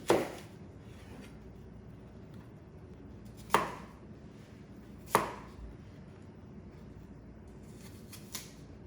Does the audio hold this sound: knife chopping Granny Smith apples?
yes